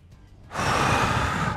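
A person breathes in deeply during a cat-and-dog back-arch posture exercise, a loud, close, rushing inhale that starts abruptly and holds steadily to the end, with no talking.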